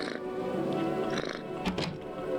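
A cat from the video game I Am Not Human purrs while being petted, a low, steady rumbling purr heard up close for a couple of seconds.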